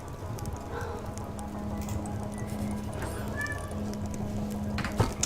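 A pet cat meows faintly a couple of times in a room, behind a steady bed of computer game noise.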